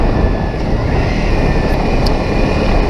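A Honda CRF 250 Rally motorcycle is ridden, producing a loud, steady engine drone mixed with wind rush, constant throughout and without pauses.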